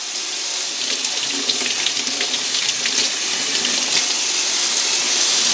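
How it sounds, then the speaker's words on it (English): Running water from a tap splashes steadily over refinished NuTone IS69 entry door station parts and grill being rinsed in a sink, a continuous close hiss with no talking. "We'll rinse them off."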